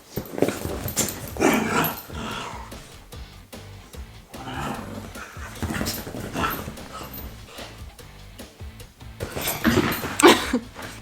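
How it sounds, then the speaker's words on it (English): Dogs play together at close range, trading bursts of rough growls and snarls with short whimpers and pauses between the scuffles. "we had a little intermission of dogs playing"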